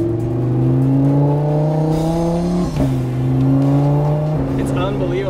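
Camera car driving, an engine note holding steady with gear shifts and small revs, close and continuous, with no talk over it.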